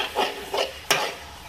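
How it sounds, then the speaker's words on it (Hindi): Spoon stirring mashed tomato with crushed and ground red chilli in a karahi, three short scraping strokes, the last a sharper clink against the pan, close and otherwise quiet. "मिक्स करेंगे इसको।"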